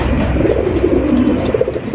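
Shoyad chandan pigeons coo steadily and close by at a pigeon farm, a low continuous rolling murmur of several birds with no talking.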